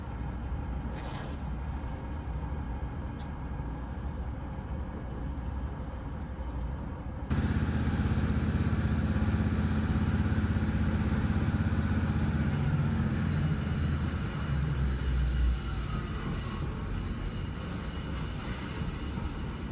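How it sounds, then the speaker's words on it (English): A train pulls out of Grosmont station on the Esk Valley Line with a steady rumble and rattle of wheels on track, growing louder partway through as it passes old carriages, with no talk. "As we depart Grosmont, we pass a mixture of old train carriages."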